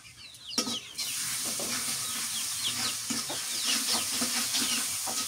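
Spice pastes of garlic and cumin are sautéed with salt in a pan outdoors in a village setting, a continuous close sizzle with scraping stir strokes, and a chicken clucks briefly near the start.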